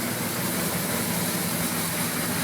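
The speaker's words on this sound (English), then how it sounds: "I don't know what that ticking sound is, but the clack has gone away" A 1981 Suzuki GS850G motorcycle engine runs steadily after new cam buckets and reshimmed valves, giving a close, loud, even mechanical drone with no breaks.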